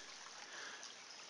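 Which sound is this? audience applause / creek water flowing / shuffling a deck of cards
creek water flowing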